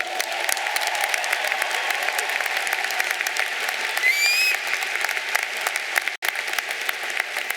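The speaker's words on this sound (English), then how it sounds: "give yourselves one more big round of applause" Sustained applause from a commencement crowd at a university graduation ceremony, steady dense clapping that fills the whole stretch with a brief cutout near the end, with faint cheers or whistles rising above it.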